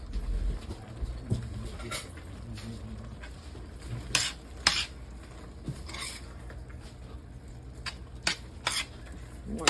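Pork being chopped up in a pot with a utensil gives scattered metallic scraping and sharp clinks against the pot, irregular and close, over a low simmering background.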